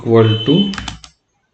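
Several quick keystrokes on a computer keyboard while entering an F + G addition in Scilab, a short run of clicks following speech at the start of the clip.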